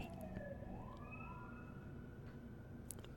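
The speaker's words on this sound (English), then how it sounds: "There are just sirens everywhere." Several emergency vehicle sirens wail at once, rising and falling tones overlapping steadily against a constant background roar of traffic, fairly distant and continuous throughout.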